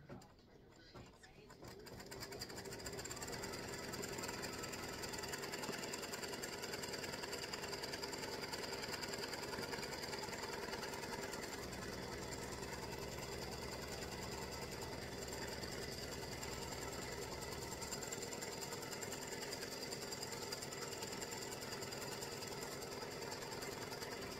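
A sewing machine runs steadily for over twenty seconds, tacking fabric down for a monkey and banana tic tac toe board set, a continuous close mechanical whir after a brief quiet start.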